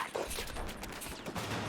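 Shotgun blasts in the video game Battlefield 4, several heavy booming shots in quick succession over a busy battle background, fairly quiet overall.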